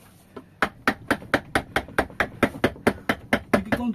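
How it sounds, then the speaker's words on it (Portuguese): Steady mallet blows strike a carving tool into a small wooden plaque while a mule figure is hand carved, about a dozen sharp, evenly spaced knocks, close and clear with no talking. "Entalhar uma mula na madeira."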